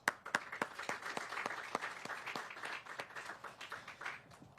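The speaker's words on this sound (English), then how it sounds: "just one more thank you round of applause for our elected representatives who were able to come out with us today" Audience outdoors at the groundbreaking of Sandpiper Glen senior affordable housing applauding elected representatives, a moderate crowd of claps with distinct sharp individual hits standing out over a steady patter.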